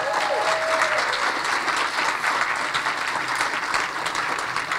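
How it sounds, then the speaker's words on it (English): Dense, sustained applause from a large audience at a film premiere for The Pathway Home in New Castle County, a steady wash of clapping with faint voices mixed in. "Let's give the filmmaker and everyone in it another big round of applause."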